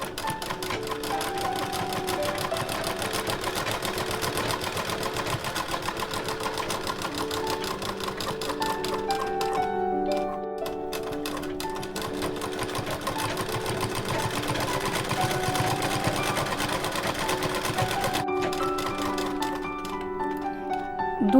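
A sewing machine stitches the side seams of a small ghagra for a Laddu Gopal idol, running in a steady, continuous whir with brief pauses and restarts between passes, close and alone.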